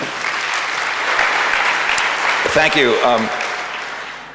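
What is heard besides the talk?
audience applause for opening statement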